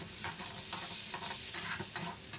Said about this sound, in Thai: ผัดคลุกเคล้าให้เข้ากันก่อนครับ